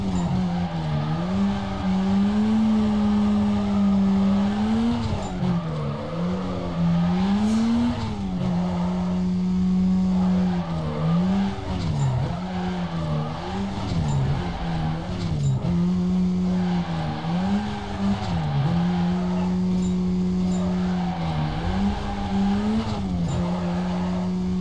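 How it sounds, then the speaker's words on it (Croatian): Tires squeal steadily as a car drifts in Need for Speed Carbon, a loud, wavering screech over the engine drone that rises and dips through repeated slides and continues without pause. "Gore će mi ovoga gume od driftanja"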